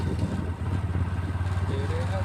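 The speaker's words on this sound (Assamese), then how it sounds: "বাইক চলাই গৈ আছোঁ" A motorcycle riding along a road toward a hilltop spot, its steady mid-range engine drone close and continuous throughout.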